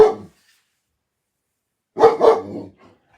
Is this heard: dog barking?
yes